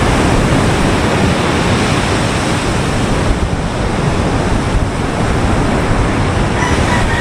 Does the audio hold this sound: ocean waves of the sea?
yes